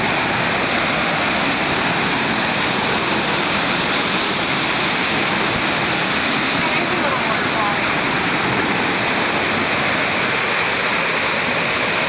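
Mud Creek Falls pours in a loud, steady roar of rushing water, a dense unbroken wash of spray and splashing that holds at the same level throughout, close and alone.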